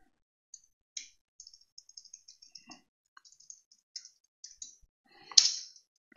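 Faint, quick keystrokes on a computer keyboard in a quiet room, about a dozen uneven clicks in short bursts, ending with a slightly louder clattering flurry, with no talking.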